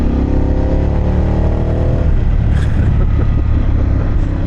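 Harley-Davidson Pan America adventure motorcycle with aftermarket Akrapovic or Vance Hines exhaust, a steady low engine drone while riding on a road in Sussex, New Jersey, loud and continuous with no talk over it.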